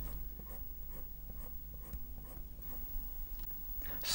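HB pencil laying down short tapered shading lines on a smooth, waxy drawing surface, a steady run of soft scratchy strokes repeating at a quick, even rhythm, close and quiet.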